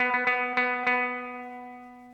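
Four quick picked notes on a guitar phrase, fretted on the third string, ring together into a sustained, slowly fading tone, close and clear.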